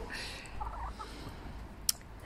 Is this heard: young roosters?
yes